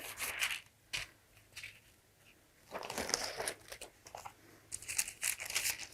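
A sheet of sketch paper being picked up and handled close by, giving crisp crinkling and rustling bursts that come in short clusters separated by quiet pauses, with no talking.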